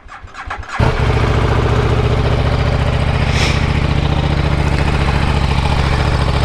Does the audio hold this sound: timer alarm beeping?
no